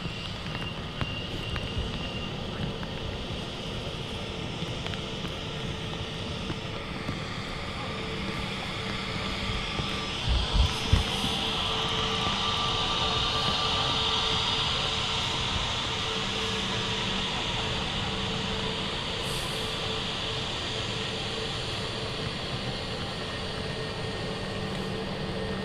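An Airbus A321neo airliner in British Airways livery at Manchester Airport produces a steady, distant engine roar and broadband rumble that holds evenly throughout, with a brief low thump midway and no talking.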